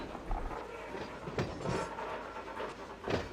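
A BNSF train rolls down a hill on the main line in the Run 8 train simulator, a steady broad rumble broken by a few sharper wheel clatters, with no talk.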